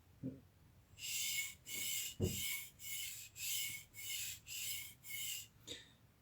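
A knife edge is drawn across a sharpening stone in about nine even, rhythmic rasping strokes, close and clear, with a few soft knocks between them.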